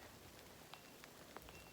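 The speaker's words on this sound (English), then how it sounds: "So the storm is no longer above me, but it is raining." Rain falling steadily on a hike after a storm has passed, a soft continuous hiss with a few faint droplet ticks, even and fairly quiet with no voices.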